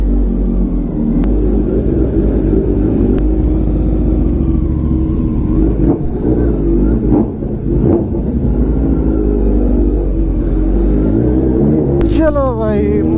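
Kawasaki Z900 motorcycle engine running steadily with a deep, loud rumble throughout a ride, swelling into revs, with wind noise and someone talking over it.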